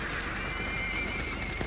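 Diablo, a wild black stallion, lets out a long, shrill whinny that wavers across the whole moment, with a faint hoof knock near the end over a noisy old film soundtrack.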